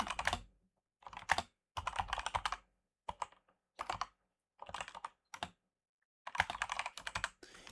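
Typing on a computer keyboard, quick bursts of close, crisp key clicks separated by short pauses, alone and fairly quiet.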